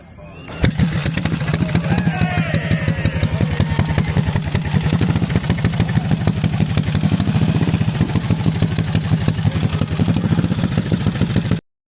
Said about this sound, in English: the 1700cc single-cylinder engine, it certainly produces a thunderous sound